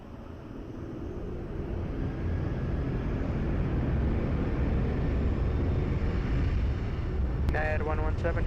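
A jet airliner takes off from runway 20 at Lisbon airport, its broad roar swelling over the first seconds and then holding steady and loud, with a brief radio voice cutting in near the end.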